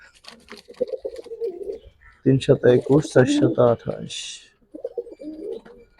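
Giribaz high-flyer pigeons coo softly in the background while someone talks loudly close by, his voice covering most of the birds.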